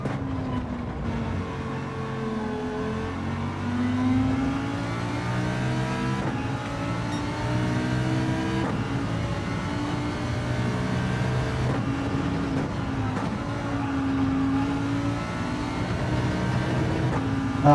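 Racing car engines in Gran Turismo 7, including a BMW close behind, rev and whine steadily for a long stretch, with pitch rising and falling through gear changes, loud and continuous, with no talking.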